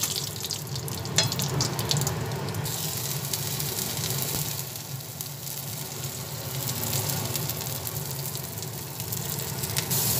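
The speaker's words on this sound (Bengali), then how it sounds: "তেজপাতা সাদা জিরেটা একটু অল্প পরিমাণে ভেজে নিচ্ছি।" Cumin seeds and a bay leaf fry in hot oil for a Bengali bottle gourd and prawn dish, giving a steady, close sizzle and crackle that holds evenly throughout with no talking.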